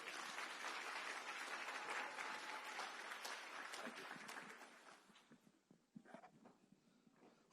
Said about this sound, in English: Please give a round of applause for him.